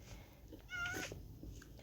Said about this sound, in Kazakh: Мына мышықты қарасаңыздаршы, мышық кәдімгідей.